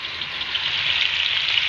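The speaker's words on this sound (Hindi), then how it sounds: "इसी घी में मैंने प्याज डाले हैं फ्राई करने के लिए" Onions frying in hot ghee in a pan, a steady soft sizzle with a faint crackle, quiet and even throughout with no talking.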